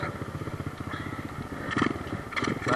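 A Kawasaki KLX110 pit bike engine running close by, a fast, even putter with a small single-cylinder rasp and brief throttle blips toward the end.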